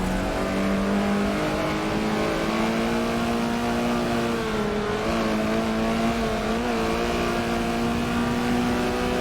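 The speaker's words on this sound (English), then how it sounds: "That Swordfish Motorsport car," Race car engine in Forza during a Prague spec-series race, heard on board the Swordfish Motorsport car: a loud, continuous high-revving drone with steady harmonics that rise and dip slightly as the car shifts and corners, with no talk over it.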